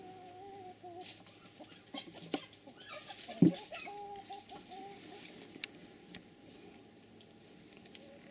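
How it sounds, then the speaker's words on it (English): Chickens cluck faintly in the distance over a steady chorus of insects, with one brief, sharper squawk partway through. "The chickens are having some sort of disagreement over there."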